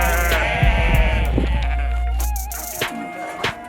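A sheep just caught by a Kazakh herder bleats loudly and close by in a long, wavering cry, followed by a few shorter bleats against a rumbling background.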